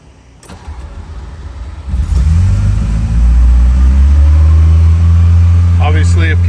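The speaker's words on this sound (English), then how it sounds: "May as well do a cold start." A 1980 Ferrari 308 GTSi, fuel-injected, cold-starts in a chilly garage: a click and cranking, then the engine catches and settles into a loud, steady high idle that rises slightly and holds.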